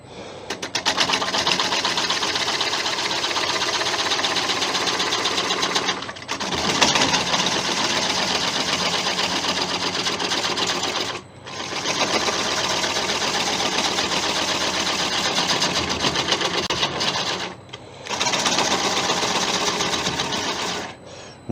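A wood lathe spins a 5,000-year-old Irish bog oak piece held in jaws while a small bowl gouge takes it down. A steady, buzzing whir runs in long stretches, broken by three short pauses.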